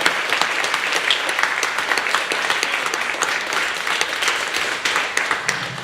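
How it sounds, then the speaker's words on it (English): A room of people gives a round of applause for an event organiser, dense close clapping that holds steady and loud throughout. "I think she deserves a round of applause for everything she's done to organise this today"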